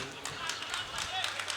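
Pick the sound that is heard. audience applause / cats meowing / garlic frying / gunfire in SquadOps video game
audience applause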